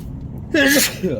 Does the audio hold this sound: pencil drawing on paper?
no